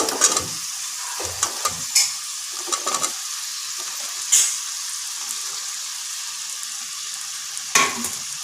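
Chickpeas and cut potatoes fry in a pan in a home kitchen, a steady sizzle broken by several scraping stirs and clatters of a spoon against the pan.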